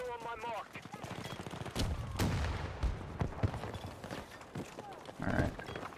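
Battlefield 2042 gunfire crackles in scattered bursts and single sharp shots amid battlefield clatter, moderately loud, with voices speaking over the action.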